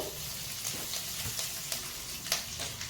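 Curry leaves sizzle in hot oil as a tempering for sweet pumpkin curry, a soft continuous crackle with a few sharper pops, fairly quiet and without speech.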